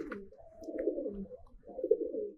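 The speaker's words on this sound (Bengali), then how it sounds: "এইখানে এক জোড়া কবুতর আছে মাশাআল্লাহ খুব সুন্দর দেখতে" A pair of Giribaj pigeons coos in low, throaty phrases, two rolling bursts close to the microphone with a short pause between them.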